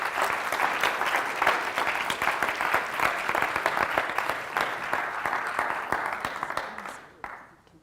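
A room full of people applauds at a Black graduate careers event, dense clapping with distinct sharp individual claps standing out, steady throughout and quickly dropping away near the close.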